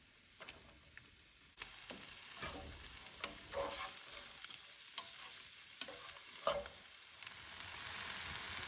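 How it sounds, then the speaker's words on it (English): Onions and mushrooms stir-fried in a lightly oiled pan over high heat, a steady close sizzle with repeated scraping stirs of a utensil throughout, no voices. "we're going to stir fry our onions and our mushrooms"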